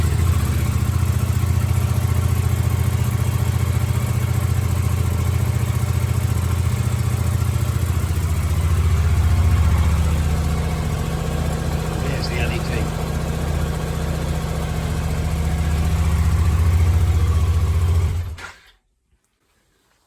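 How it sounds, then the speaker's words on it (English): A Suzuki GSX8S motorcycle engine idles steadily at close range, a continuous low rumble that holds for about eighteen seconds before cutting off abruptly into silence. "So let's fire the bike up."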